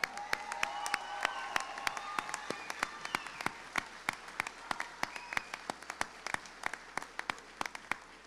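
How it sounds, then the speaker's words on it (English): An audience at a community scholarship night claps together, a dense burst of applause that thins out into scattered, sharper individual claps as it winds down. "One more round of applause for them."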